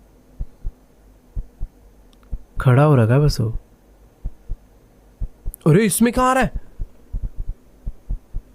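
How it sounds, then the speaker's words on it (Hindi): Heartbeat sound effect: regular, evenly spaced low thumps that run the whole way through, with two short bursts of talking over the beat. "पर धड़कने बढ़ गई।"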